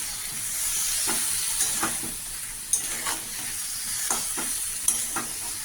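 Ground spice paste frying in a pan for a fish-roe and Malabar spinach curry, a steady soft hiss with light stirring scrapes at intervals, close and moderately loud, no talking.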